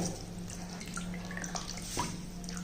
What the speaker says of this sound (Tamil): தண்ணி ஃபுல்லாக கீழே இறங்கிரும்.